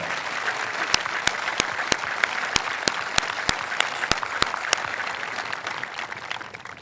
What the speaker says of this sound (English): Please join me in a round of applause congratulating the class of 2025.